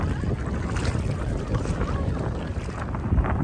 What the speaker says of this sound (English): I know it's really windy, so I don't know how much of this footage I'm going to be able to use